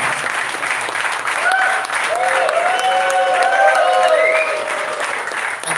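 Loud, sustained applause from a crowd at the NEUSCA Winter 2024 opening ceremony, with cheering voices and whoops rising over the steady clapping.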